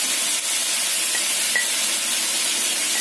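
Onions added to beef sizzling in a hot pan, a steady loud hiss and crackle of frying that holds evenly throughout with no talking.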